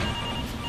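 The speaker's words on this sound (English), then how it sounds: "Who brings a fucking phone to a hot set?" A phone rings loudly on a hot film set, a brief bright electronic tone that fills the moment with no talking over it.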